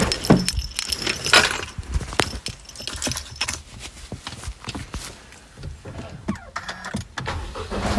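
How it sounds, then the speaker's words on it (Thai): Car keys jangle loudly up close at first, followed by rustling, a door and an engine starting before driving off, busy handling noises throughout with no speech. "ไปขับรถก่อนนะ"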